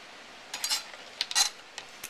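A knife slicing rabbit liver and kidneys on a board, a few short crisp cutting strokes in close, quiet clusters with small gaps between them.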